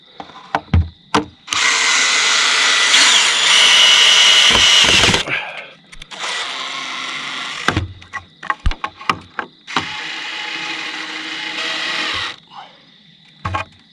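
A power drill whirs loudly in several bursts of a few seconds each while framing greenhouse rafters, separated by clanks and knocks, with brief pauses between runs.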